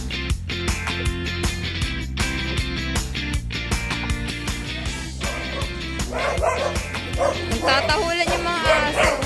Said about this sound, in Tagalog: Nagtatahulan yung mga aso.